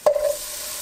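Butternut squash drops into a pot of sautéed onions and garlic, a single sharp hit followed by a short sizzle that fades into a quiet steady hiss.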